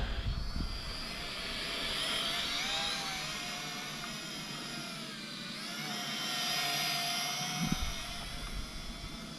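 Syma X5A-1 RC quadcopter drone in flight, a thin high-pitched motor whine that rises and falls as it maneuvers, faint and steady, with a couple of brief knocks.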